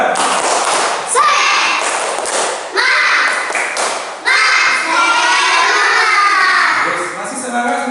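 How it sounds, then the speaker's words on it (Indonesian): A school class of children performs tepuk semangat, bursts of patterned clapping and thumps mixed with loud children's voices chanting together, close and lively throughout. "Ya, coba tepuk semangat."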